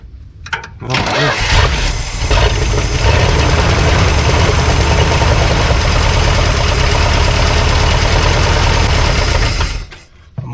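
A 1972 Plymouth Fury engine, abandoned and struggling for fuel, cranks and runs loud and close, a dense continuous roar from start to nearly the end of the clip before cutting off.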